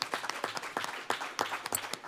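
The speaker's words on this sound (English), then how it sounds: "let's give her a round of applause" An audience at a women's resilience summit claps in a moderate, uneven patter of individual hand claps, fairly close and alone for about two seconds.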